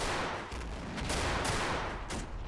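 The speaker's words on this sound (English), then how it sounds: "one of the greatest disadvantages of this light machine gun is its ammo capacity" Light machine gun firing in a World War II battle game set during the Allied invasion of Italy, dense bursts of rapid gunfire with distant shots layered over a constant battlefield rumble.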